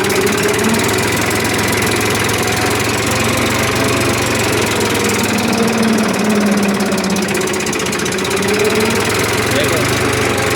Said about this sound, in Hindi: तुम्हारा भाई ट्रैक्टर निकालेगा, देखना।